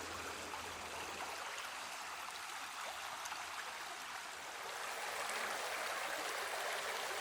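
A forest creek along an Arkansas hiking trail flows in a steady, broad rush of water, close and continuous with no voices, swelling slightly louder toward the end.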